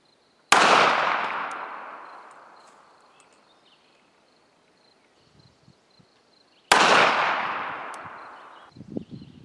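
A Remington 1911 R1 pistol chambered in .45 ACP fires two loud, close shots about six seconds apart, each blast trailing off in a long echoing decay, with faint clicks and handling noise between.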